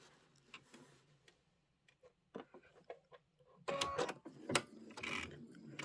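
A serger sewing machine finishes the back of a pillow, running in quiet, irregular bursts of stitching with short pauses, growing louder and busier in the last two seconds.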